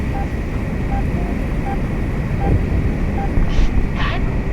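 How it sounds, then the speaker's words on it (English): A steady engine drone fills the background as an aircraft passes close overhead in the video game Project Wingman, with game-like ambience and brief tonal blips. "We've got a plane right on top of us!"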